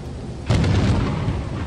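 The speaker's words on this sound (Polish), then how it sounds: "To jest burza." A thunderstorm in the video game Lethal Company, a sudden loud rumbling thunderclap after a half-second of quiet, rolling on and slowly fading.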